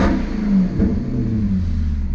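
A Maserati GranTurismo's Ferrari-built V8 revs steadily up close, a continuous deep engine roar with a slight rise and fall in pitch and no voices.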